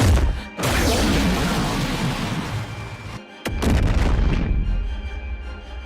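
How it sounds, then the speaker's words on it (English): Godzilla Minus One atomic breath explosion film sound effect: a loud, heavy, sustained roaring blast with a brief cutoff near the three-second mark, then a second booming burst that rumbles on and slowly fades. "or Minus One's atomic breath explosion."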